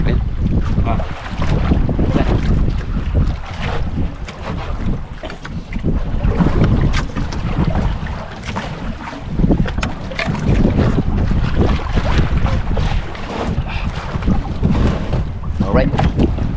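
A fishing boat moving across water, with steady engine rumble and rushing wind and spray filling the whole stretch, loud and close throughout.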